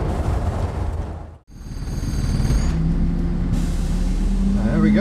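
Leyland National bus with its engine at the rear, heard from the front beside the driver: a steady, muffled low drone and rumble fills the cabin, briefly dropping out before returning, with a faint high whine and some background voices near the end.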